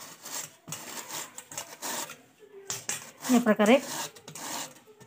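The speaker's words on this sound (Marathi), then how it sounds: "आता या खोबऱ्या किसणीने आपण हे किसून घेऊया" A bottle gourd is scraped over a coconut grater in a home kitchen, producing several quick, rasping strokes in bursts, close and fairly crisp, with a short spoken remark at the end.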